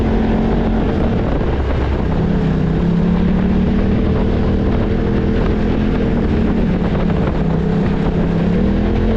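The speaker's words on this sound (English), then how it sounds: "a few of the vehicles that come by and attempt this part of the course" Off-road racing vehicles at the Knolls course in Bonneville roar steadily past, a loud continuous engine drone with wavering pitch as they attempt a rough section, wind buffeting the microphone throughout.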